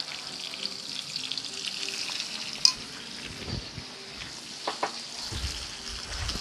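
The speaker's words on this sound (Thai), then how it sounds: "ใส่กะปิที่ละลายน้ำลงไปนะคะ" Ivory wood seeds being stir-fried with shrimp paste and fresh shrimp in a pan, a low steady sizzle with soft stirring scrapes and a sharp clink near the middle, fairly quiet throughout.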